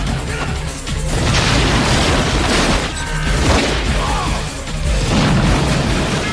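Gunfight from the 1997 Jackie Chan action film Mr. Nice Guy: dense, loud booms and crashing bursts that run almost continuously, with brief dips between waves of heavy impacts.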